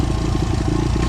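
Honda XR100 dirt bike engine rumbling steadily at low gears while riding downhill on a mountain slope, close and continuous with a low, throbbing mechanical drone and faint clatter.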